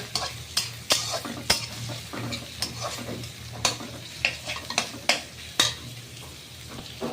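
Bitter gourd and chopped onion with green chilies are stirred in a frying pan, a low sizzle beneath repeated sharp spatula knocks and scrapes against the metal, close and irregular, no talking.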